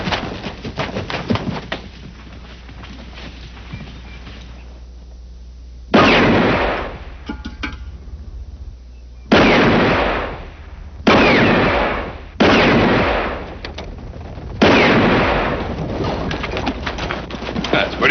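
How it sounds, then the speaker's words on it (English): Target shooting gives several sharp, loud gunshots spaced a second or more apart, each ringing off with a decaying tail, with quieter ambience and a little talk between the shots. "That's pretty good shooting there, Denver."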